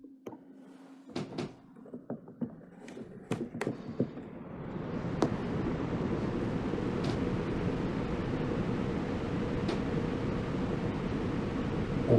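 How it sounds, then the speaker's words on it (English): A strong, steady rush of wind made by fans builds after a few scattered knocks and clicks, then roars continuously and fairly loud. "let's make some really strong wind."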